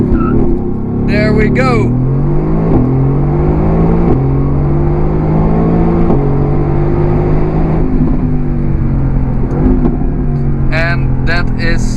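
A Mercedes-AMG GT C Edition 50 making a launch-control race start, its engine held high, then revving hard through a string of rapid upshifts as it accelerates. Someone speaks briefly near the start and again near the end.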